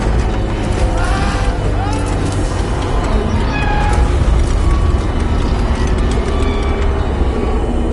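Cat meows from a kitty in the video game Death Stranding 2, several rising calls heard over a dense, loud mix of underwater ship rumble and game sound effects, with talk mixed in.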